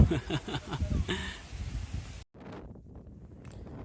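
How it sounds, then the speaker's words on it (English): Strong wind on a steep hiking trail up Table Mountain in Cape Town, roaring and buffeting close to the microphone, loud at first, then cutting out briefly and returning as a fainter gusty rush. "wind again is very high"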